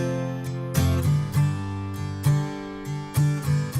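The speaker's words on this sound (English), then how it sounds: "We'll drag in this acoustic guitar loop as an example" An acoustic guitar loop played back in Cubase, with bright plucked chords and notes ringing out in a relaxed, repeating rhythm, clear and alone.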